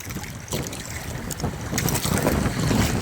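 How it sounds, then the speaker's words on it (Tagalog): Strong southwest monsoon wind blows at sea around a fishing boat, a loud, continuous rushing roar that buffets the microphone and swells slightly toward the end, with no voices. "Lakas yung abagat"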